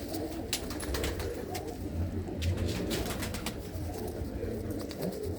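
Pigeons cooing at a pigeon fancier's loft, a steady low burbling coo repeating throughout, fairly close, with faint chirps and light background noise and no talk over it.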